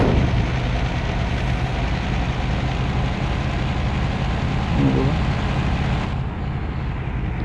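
Eicher 3019 truck engine in a driving-game mod, a steady, low diesel drone idling and running evenly throughout, loud and alone with a slight dip near the end.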